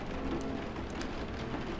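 Steady rain falls in a constant soft hiss and patter, with faint scattered drips standing out now and then and no voices over it.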